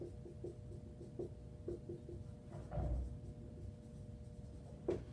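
During a lecture on matrices, someone writes on a board in short, quiet strokes and taps that come in irregular bursts. The sound is close but faint, with a slightly firmer knock near the end.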